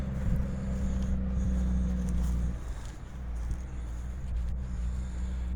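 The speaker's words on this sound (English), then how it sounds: "Okay, got another truck coming." A truck passes a small-town railroad station, its steady low engine rumble close and loud, easing slightly partway through as it goes by, with no talking.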